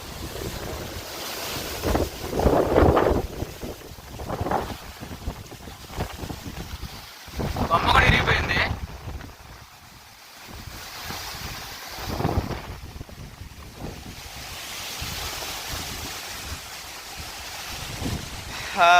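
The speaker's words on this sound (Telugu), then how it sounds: "ఇంకా గాలి అలాగుందన్నమాట తీవ్రంగా ఉంది గాలి" Strong gusting wind during a rainstorm buffets the microphone in heavy roaring bursts, rising and falling over steady rushing noise, with faint voices now and then.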